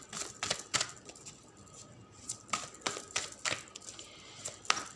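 Tarot cards being reshuffled by hand: a series of crisp, dry snaps and riffling clicks in irregular bursts, close and fairly quiet.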